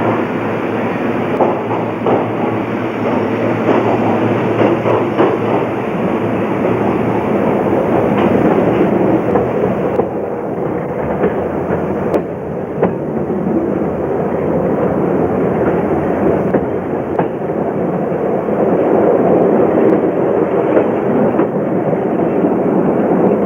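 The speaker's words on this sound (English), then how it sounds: "Leaving Bangkok, the train heads further south." A passenger train travels south from Bangkok, its steady rolling rumble and rhythmic wheel clatter continuous and loud throughout, heard from inside the carriage with no talk.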